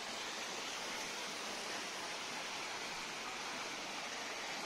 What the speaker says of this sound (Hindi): देखिए छोटे मोटे वाटरफॉल